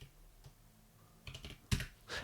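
Keys clatter on a computer keyboard in a few quick bursts of clicks, close and distinct, with quiet gaps between them and no talking.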